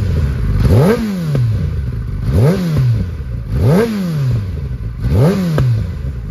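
Kawasaki Ninja ZX-10R sport bike engine blipped four times in a row, each rev rising sharply and falling back, up close and loud over a steady idle.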